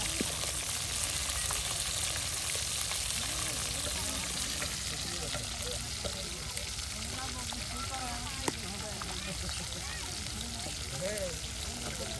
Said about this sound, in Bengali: এই যে দেখুন মাছ কিন্তু ভাজা হয়ে গেল আর নামিয়ে নেওয়া হচ্ছে